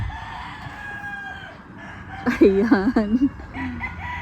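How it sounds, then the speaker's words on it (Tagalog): Chickens at a Bali holiday attraction near a glass bridge cluck and a rooster crows loudly for about a second in the middle, close by, with a brief spoken word just before. "Mga manok."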